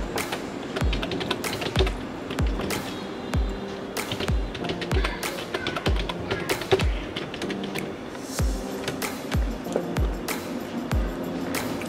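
Fingers tap out a password on a computer keyboard in a run of irregular, close keystrokes and clacks, with a few heavier thumps mixed in and no talk.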